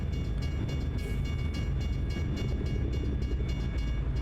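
Freight train carrying intermodal cars rolling past in snowy Glacier National Park in American Truck Simulator, a continuous heavy rumble with rhythmic clanking of wagons, close and loud without letup.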